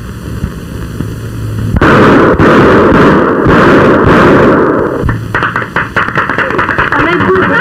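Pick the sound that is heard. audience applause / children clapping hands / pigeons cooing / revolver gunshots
revolver gunshots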